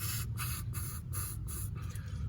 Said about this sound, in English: So we got the spray. All you do is just go in there and just